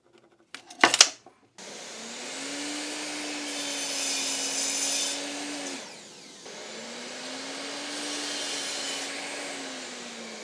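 A wooden dowel being cut to a 15-centimetre length with a power tool, heard as a short clatter followed by two sustained whining runs with a brief dip between them, close and steady with no talking.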